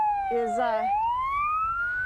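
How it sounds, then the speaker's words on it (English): An emergency vehicle siren near a California wildfire wails in a rising and falling sweep, loud and close, with a person talking over it. "You got the sirens going"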